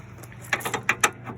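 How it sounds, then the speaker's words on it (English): A wrench working the radiator tie-down bolts on a Subaru gives a few quiet, sharp metallic clicks and taps spaced about half a second apart, close by over a faint hum. "Now let's use a wrench."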